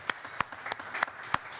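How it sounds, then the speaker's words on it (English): A small audience gives the event organizer a short round of applause, made up of a handful of sparse, separate claps spaced irregularly, quiet and somewhat distant. "So if we could just give him a quick round of applause."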